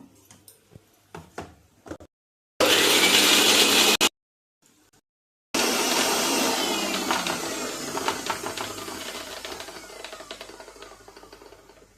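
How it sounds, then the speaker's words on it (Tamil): A mixer grinder blends sautéed ginger in two loud whirring bursts, a short one and then a longer run that slowly fades. A few light clicks and knocks come before the bursts. "அந்த இஞ்சியை வந்து இதில் போட்டு நெய்ஸாக அரைச்சிக்கணும்"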